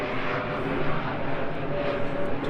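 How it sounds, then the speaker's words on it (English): An airplane passes overhead near a boat yard in Miami, a steady, broad engine roar held at moderate distance throughout. "Another plane, by the way, for those playing at home."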